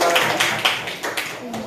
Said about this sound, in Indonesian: Boleh tepuk tangan untuk kelompok kelinci